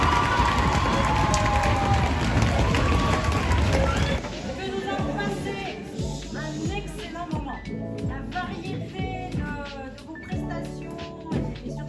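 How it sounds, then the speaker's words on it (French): A school crowd at a speech contest for eighth-year pupils claps and cheers loudly for the six candidates, a dense roar at first that thins into scattered clapping and babble after a few seconds. "On applaudit très fort les 6 candidats pour toutes leurs prestations."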